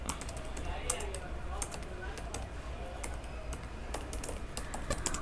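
Rapid, steady typing on a computer keyboard, with close, crisp key clicks in an uneven patter over a low background hum.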